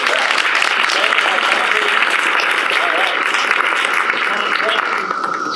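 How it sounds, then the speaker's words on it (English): A big round of applause from the crowd at an outdoor Memorial Day ceremony, dense and continuous clapping that holds steady before easing slightly at the end. "So let's get a big round of applause."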